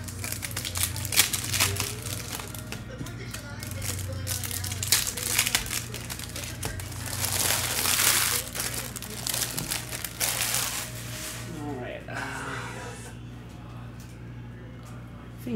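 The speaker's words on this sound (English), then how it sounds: "I'm ripping open the next box." Foil packs and wrapping from a 2021 Topps Chrome baseball hobby box crinkle and tear close by in steady bursts, with a low hum and a faint voice underneath.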